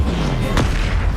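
A Confringo fire-blast spell cast in Hogwarts Legacy bursts out as a single sharp, loud blast over a continuous low rumble, followed by a short rolling tail.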